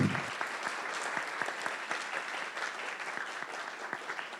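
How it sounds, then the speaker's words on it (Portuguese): Audience applause for a professor after an academic lecture: a steady patter of many hands clapping, fairly soft and distant, sustained evenly throughout. "Mais uma salva de palmas para o professor."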